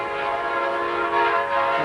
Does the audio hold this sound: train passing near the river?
yes